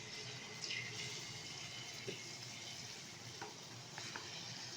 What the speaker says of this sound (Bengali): এখন জিলাপিগুলো আমি ভেজে নেব।